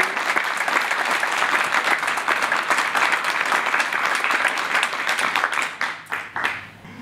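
An audience gives a thunderous round of applause, dense and loud for several seconds before thinning to a few scattered claps at the end.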